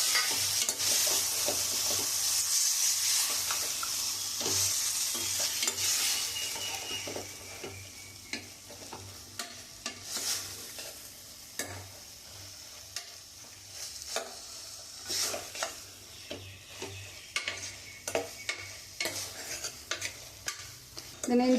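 Mutton liver and chest bones sautéing in a pan, a loud sizzle at first that settles into a softer fry, with frequent close scrapes and clinks of a spoon stirring and no talking.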